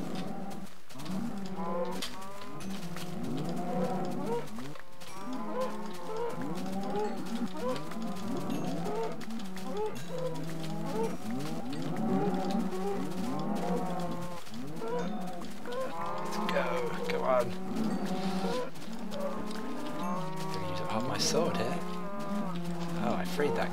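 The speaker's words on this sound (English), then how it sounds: "Oh, I freed that cow, but he's stupid, he came back down." Many Minecraft cows moo continuously in overlapping, wavering calls, a dense herd sound that fills the whole stretch at steady volume, with no clear talking.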